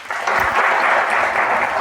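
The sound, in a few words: audience applause welcoming a guest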